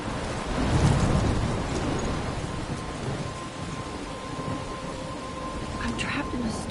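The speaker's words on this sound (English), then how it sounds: "I'm trapped in a storm?" Heavy rain pours steadily during a thunderstorm in the game Life is Strange, with a low rumble of thunder swelling near the start beneath the dense hiss of rainfall.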